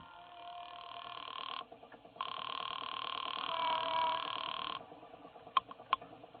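A payphone call is placed in a radio drama: a steady electronic ringing tone plays, breaks off briefly, then continues before stopping, followed by a couple of sharp clicks.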